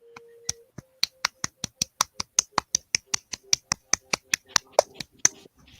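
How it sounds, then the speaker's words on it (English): About twenty sharp hand claps right at the microphone in a quick, even rhythm, each crisp and loud, with a faint steady tone running beneath the first half. "I'm clapping where the mic is"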